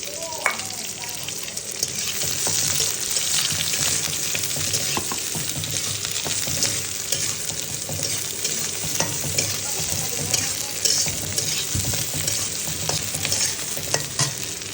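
Onions with bay leaf frying in a pan, a steady broad sizzle running throughout with scattered stirring scrapes and clinks, close and fairly loud, no voices.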